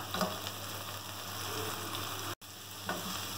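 Minced meat and onions fry in a pan for qeema with capsicum, a steady crackling sizzle with light stirring scrapes, close and even, with one very brief dropout near the end.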